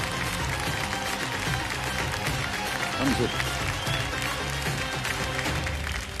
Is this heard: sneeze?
no